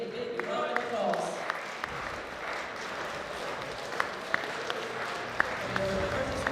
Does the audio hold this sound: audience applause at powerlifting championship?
yes